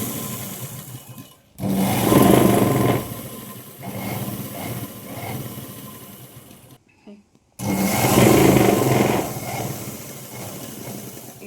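A sewing machine stitches the waistband of a plain blouse in two running bursts, a steady close mechanical whirr broken by short pauses, with no talk.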